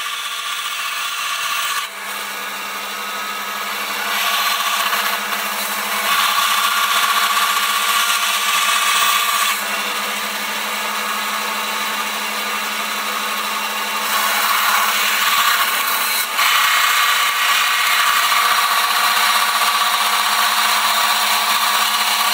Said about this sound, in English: I'll do the milling on the lathe.